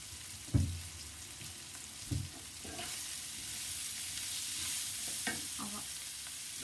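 Chopped ginger, garlic and onion sizzle in hot oil for a turnip and potato curry, a steady frying hiss broken by a few scraping stirs of a spoon in the pan.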